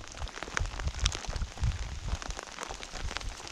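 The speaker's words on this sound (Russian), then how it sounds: "Ты смотри, дождь усиливается." Rain falling steadily during a river fishing trip, a constant hiss of drops on surfaces close around with low rumbling thuds underneath and no voices.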